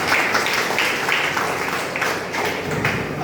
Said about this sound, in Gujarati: ત્યારે આપણે સૌનું તાળીઓથી સ્વાગત કરીશું.